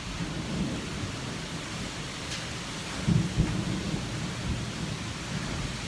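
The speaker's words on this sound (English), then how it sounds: "Pretty exciting early summer storms." An early summer thunderstorm brings steady rain hissing down outside a house with a front porch, while a low rumble of thunder swells briefly around the middle, heard from fairly close with no voices.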